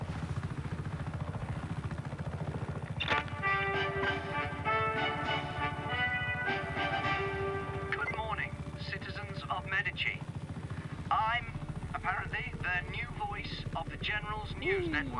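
Helicopter in the video game Just Cause 3, a steady low rotor chop running throughout beneath game effects and frequent talking voices.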